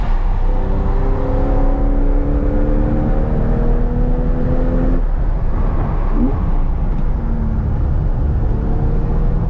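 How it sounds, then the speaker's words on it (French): Porsche 911 with a manual gearbox driving a race circuit, its engine droning steadily and loud throughout with rising and falling revs as it works through gear changes, heard from on board. "déjà je vais monter avec Simon dans la 911 boîte méca qui va me montrer un petit peu la piste, voir dans quel sens ça tourne."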